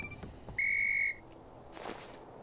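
A single steady high whistle blast in a video game, bright and loud for about half a second with faint harmonics, set against quiet background rumble and a later brief noisy burst.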